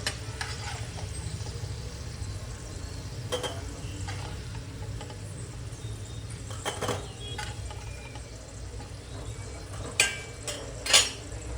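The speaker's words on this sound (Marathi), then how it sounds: "आपण हे फ्राय करूया बटाटे" Potato pieces shallow-frying in oil in a pan for dum aloo, a continuous gentle sizzle with occasional spatula clinks and scrapes near the end.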